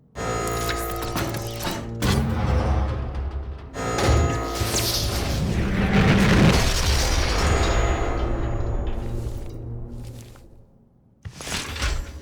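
The BFG-9000 firing in a video game: heavy booming energy blasts with rumbling roars and crashing impacts, mechanical clanks between shots, loud and continuous with a short lull near the end.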